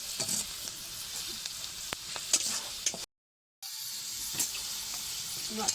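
Onion and panch phoron spices fry in hot oil with a steady close sizzle and scattered small pops. A short silent break falls midway.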